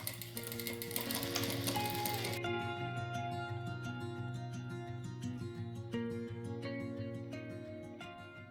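A sewing machine stitches a plastic zipper pouch with polyester thread, making a fast, steady mechanical clatter. A louder burst opens, then a quieter, continuous whirring hum with rhythmic ticking carries on to the end.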